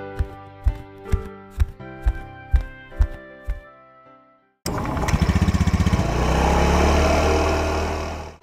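A Honda Vario motor scooter starts up and settles into a steady, loud engine run close by, preceded by a series of sharp rhythmic knocks.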